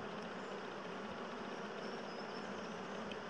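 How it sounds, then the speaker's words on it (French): A dense, continuous hum of many honeybees swarms in and around a barge beehive during an inspection, a steady buzzing drone heard close up with no talking. "Oh, dis donc, c'est envahi d'abeilles."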